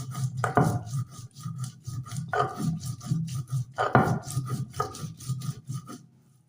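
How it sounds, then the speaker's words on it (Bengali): Ginger, cumin and garlic being chopped or ground for a home lunch, with repeated rasping, scraping strokes at close range in bursts of effort and no talk. "এখন এই যে আদা জিরা আদা রসুন কাটছি এখন"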